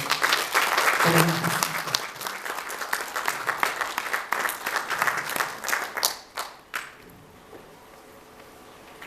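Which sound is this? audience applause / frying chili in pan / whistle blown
audience applause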